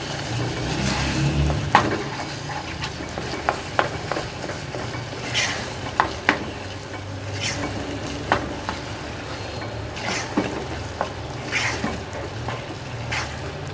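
Pumpkin halwa with almonds and pistachios stirred in a pan, a spoon scraping and knocking repeatedly against the metal over a steady close sizzle, with irregular clinks scattered throughout.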